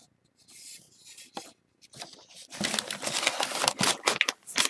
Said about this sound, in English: So I would just take a little bit of sandpaper to that.